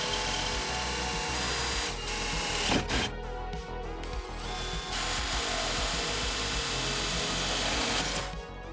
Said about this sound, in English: so now I can go ahead and transfer drill through those tabs